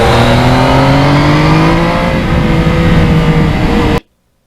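A 2020 Yamaha MT-09 motorcycle is ridden on a road, its engine loud and close, revving and pulling with rising then falling pitch before cutting off abruptly near the end.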